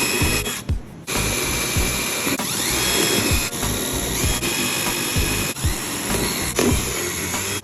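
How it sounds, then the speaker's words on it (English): A power drill bores holes into a plastic chameleon lay bin, a loud whining motor with repeated bursts and brief pauses as each hole goes through, close to the microphone with no talk. "you wanna drill a few holes in the lay bin"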